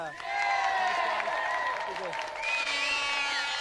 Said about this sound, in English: Another round of applause for our two special guests, Sean Curley and Kevin Conway.